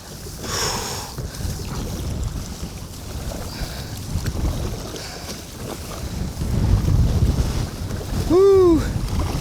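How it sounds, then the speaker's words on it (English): A strong headwind buffets a fishing boat crawling forward on windy open water, a loud rumbling wind roar on the microphone mixed with water and hull noise, with a brief voice near the end. "we're fighting the wind so bad. It's a major headwind."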